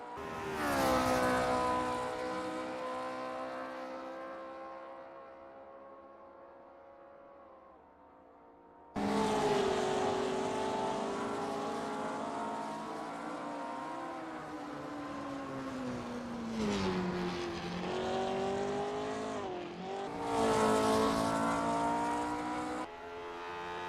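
A vintage Lotus 25 race car on an out lap at Monza in a racing game: a steady, droning engine note rises and falls through the gears. It cuts out briefly, then returns loud with shifts and revving, and no one talks.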